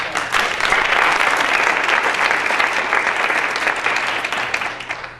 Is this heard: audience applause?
yes